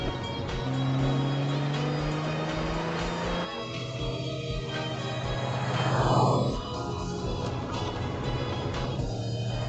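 A car is driven with a steady engine drone that rises and falls, with a surge of revving about two-thirds through, near and loud throughout.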